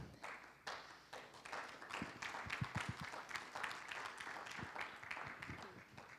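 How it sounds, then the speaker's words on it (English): Audience applause in a conference hall at a Liberty International World Conference, a loud, dense round of clapping filling the whole stretch with sharp individual claps standing out near the start. "Let's give a round of applause for Agnieszka"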